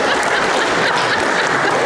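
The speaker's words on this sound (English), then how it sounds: "She's clapping." Dense, steady clapping from many hands fills the short stretch, a continuous patter with no pauses.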